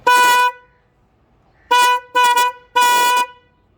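A loud motorcycle horn powered by a 10-amp lithium battery pack honks four times: one long blast, a pause, then three quick blasts in succession, close and clear with no talking.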